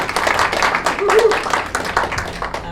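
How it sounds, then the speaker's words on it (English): Seminar audience applauding at a Jacksonville one-day event, a dense crowd clapping steadily throughout with voices and chatter mixed in. "give a round of applause"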